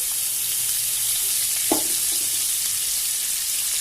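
Kohlrabi, potato and radish fry in a pan with a steady, dense sizzle and one faint clink of utensils partway through, close up with no speech.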